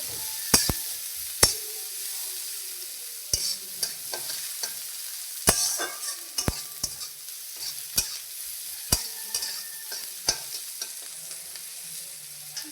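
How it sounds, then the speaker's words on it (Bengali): Sharp scraping and clanking strokes of a spatula against a pan, spaced irregularly over a soft steady sizzle of onion and green chili frying in oil for dal, with no voices. "পেঁয়াজটা কাঁচা লঙ্কাটা ভালো করে ভেজে নেব, দিয়ে একটু লাল লাল করে ভাজতে হবে"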